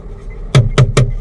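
Three heavy blows strike a car door as police force it open during a traffic stop in Saint Petersburg, evenly spaced and loud and close, with quiet background between them.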